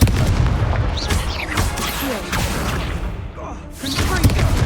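Confringo blasting spell explosions in Hogwarts Legacy land as repeated booming blasts and whooshes over a dense, noisy battle, loud and close with brief dips between impacts.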